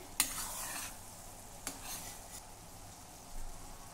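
Sugar syrup simmering in a pot while being stirred, with a soft bubbling hiss beneath a few distinct utensil scrapes and taps against the pan, close and fairly quiet, no talk.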